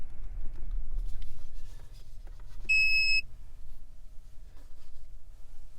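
Toyota Tundra chiming during key and remote programming: a single short, high electronic beep around the middle, faint against low background rumble and small handling noises.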